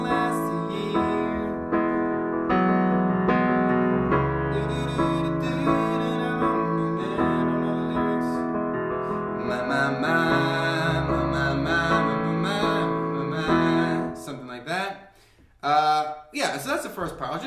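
A song is played on piano from its opening part, a steady, close run of chords with a deep bass note. It sounds alone for most of the passage, then gives way to a brief chuckle and talking near the end.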